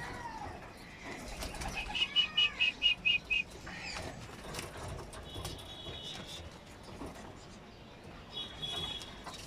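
A quick burst of wing flaps from pigeons, about half a dozen beats in a row, amid soft ambient noise and faint cooing.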